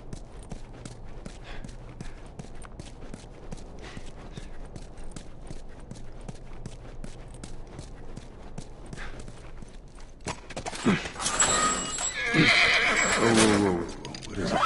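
Horse in the video game The Last Of Us, with soft hoof clip-clops and faint movement before a loud close neigh and whinny near the end.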